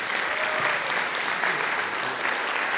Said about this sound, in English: So please give a round of applause for Dr.